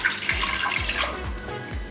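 Water pours steadily into a cooking pot over seasoned mutton chops with salt and ginger-garlic paste, a continuous close splashing stream with a few soft knocks, no voices.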